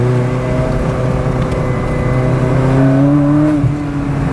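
A Ferrari 360 Modena Spider's engine pulls hard and loud from close by, its pitch climbing steadily through a sustained acceleration with a smooth, rising mechanical whine.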